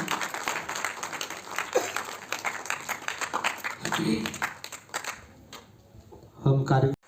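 A crowd at a press club event claps in a thin scattered burst of applause, mostly under a speaker's amplified voice, fading before a final loud flurry.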